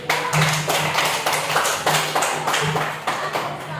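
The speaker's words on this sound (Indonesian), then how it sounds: "tepuk tangan dulu untuk Dewi." A classroom group claps for a student named Dewi after a group presentation on types of jobs, in fairly loud, rhythmic bursts of hand claps over a low steady hum.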